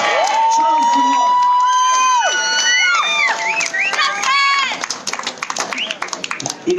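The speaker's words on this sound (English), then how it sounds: "Everybody put your hands together. Let's hear it for them. Come on. Come on. Cheer them on." A crowd at a chilli pepper eating competition claps and cheers loudly, with whoops and shouts rising over the applause, while a voice on a microphone keeps speaking through it.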